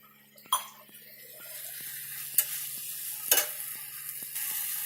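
Squash with spices and jaggery frying in a pan, a quiet sizzle with faint clinks, broken by a few sharp scrapes and taps of a spatula.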